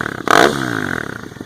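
A Triumph Thruxton 900 motorcycle with an aftermarket exhaust gives one short, sharp rev close by, then falls back into a throbbing idle.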